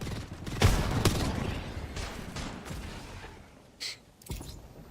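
Explosive booms and gunfire in a PUBG battle royale esports match as grenades go off, a heavy blast near the start followed by further bursts and shots, loud and dense with action noise.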